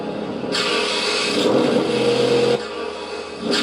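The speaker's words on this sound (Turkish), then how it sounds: "Ses full, full egzoz sesli olacak." A BMW E60 M5 V10 engine in the Assetto Corsa racing game drones and revs loudly, with abrupt cuts and restarts as the sound switches, and a rough, buzzing exhaust tone throughout.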